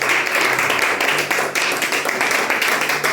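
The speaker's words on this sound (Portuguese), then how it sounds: "Vamos aplaudir Jesus" Applause from a church congregation fills the space, a steady dense patter of many hands clapping at moderate loudness that holds evenly throughout.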